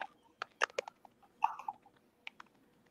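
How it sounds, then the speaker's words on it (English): Quiet, scattered key clicks from typing on a computer keyboard, arriving in a few short irregular bursts with pauses between them and no talk over them. "It does sound like typing."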